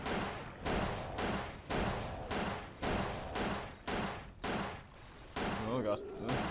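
Repeated gunshots fired at plesiosaurs in the video game Dino Crisis 2, about nine heavy booming shots at a steady rhythm, close and loud, with a louder burst at the end.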